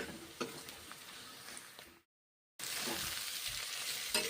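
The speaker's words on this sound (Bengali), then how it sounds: "ধনে গুঁড়ো দিলাম বেটে নিয়েছি ভেজে নিচ্ছি" Ground coriander spice frying in oil for garlic cabbage, a steady close sizzle with light stirring scrapes, cut by a half-second gap of silence before the hiss returns slightly louder.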